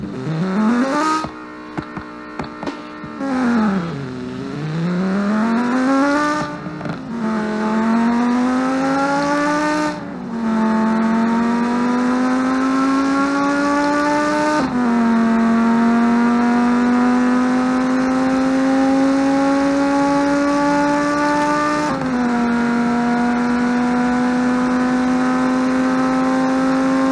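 Simulated car engine in a BeamNG.drive quarter-mile drag race, revving hard then climbing through several gear shifts with rising whine, loud and sustained with no talk.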